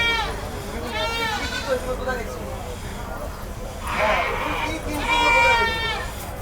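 Goats bleat repeatedly at a busy livestock market near Ashulia, Dhaka. Several wavering cries rise over a crowd murmur, with someone talking nearby.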